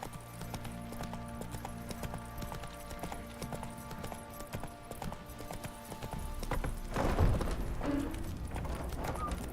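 Rhythmic clip-clop of horse hooves in the video game The Witcher 3: Wild Hunt, under steady tonal background sounds, with a louder burst of rustling movement toward the end.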